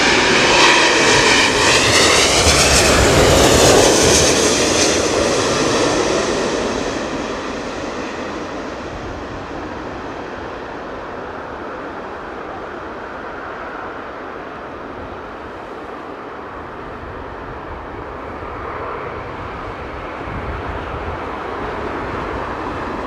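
An airliner landing at London Heathrow in a strong storm crosswind, a loud roaring jet engine swell that peaks early and then fades into a steady, broad rumble, with no talking.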